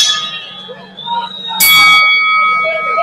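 A boxing ring bell clangs once, bright and ringing with a lingering tone, following an announcer's voice introducing the referee before a fight night face-off.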